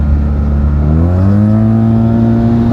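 A Yamaha TMAX 560 scooter with a Malossi Termignoni exhaust accelerates hard, its loud, close engine note climbing steadily in pitch through the gears with no speech over it.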